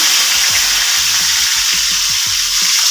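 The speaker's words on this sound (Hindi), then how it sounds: "तो फ्रेंड्स मेरा तेल गर्म हो गया है, मैं इसमें कटहल ऐड कर दे रही हूँ" Jackfruit pieces frying in hot oil in a wok make a loud, dense crackling sizzle with rhythmic low thumps beneath, close up and continuous with no speech.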